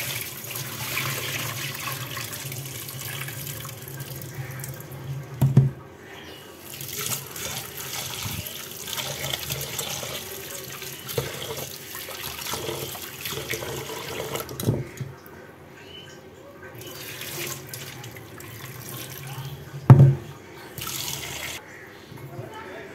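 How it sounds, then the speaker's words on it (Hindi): Tap water runs steadily into a pot as lentils (dal) are washed by hand in a home kitchen, a continuous close splashing with a couple of sharp clanks, under a woman's speech. "यहाँ पर अभी मैं दाल धो रही हूँ दोपहर लंच में बनाने के लिए।"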